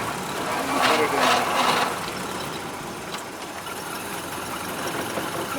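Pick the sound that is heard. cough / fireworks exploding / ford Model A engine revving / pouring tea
ford Model A engine revving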